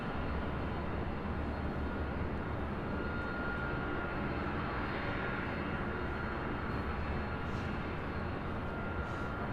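An Emirates Airbus A380 takes off from LAX with a dense, continuous jet roar that stays steady and moderately distant throughout, with no voices.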